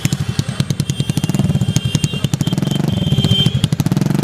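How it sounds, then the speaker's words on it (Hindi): A TVS Ntorq BS6 scooter engine runs with its exhaust removed, giving a rapid, loud, raw pulsing putter at close range that speeds up slightly partway through. "एक बार मैं आपको साउंड सुनाता हूँ विदाउट एग्जॉस्ट कि कैसा साउंड क्रिएट करता"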